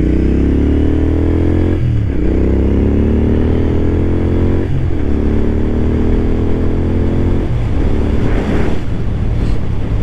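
A motorcycle engine climbs in pitch, drops sharply at each quick gear change, then climbs again, with steady wind rushing past the microphone.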